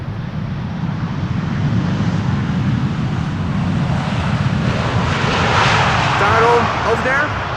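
A Boeing 787-9 airliner lands at Schiphol's Polderbaan runway under gusty skies, a broad steady engine roar that grows slightly louder toward the end, with a faint higher whine appearing late.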